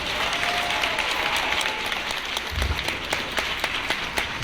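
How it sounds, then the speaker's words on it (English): An audience at a Martin Luther King Jr. Day community center event applauds loudly and steadily, a dense wash of many hands clapping with a few louder claps standing out. "Give them another round of applause."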